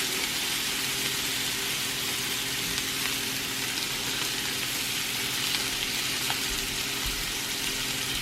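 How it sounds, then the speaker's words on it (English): Steak fillets sear in a pan over medium heat with butter, fresh thyme and rosemary, giving a loud, continuous, close crackling sizzle throughout with no talking. "let my steaks pan sear on medium heat for 5 minutes on each side"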